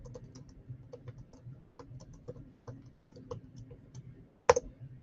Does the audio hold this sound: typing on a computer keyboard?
yes